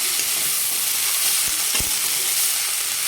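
Soaked lentils sautéing in a pan for a wild-vegetable dish, giving a steady broadband frying hiss throughout with two brief low knocks of a spoon against the pan near the middle; no voices.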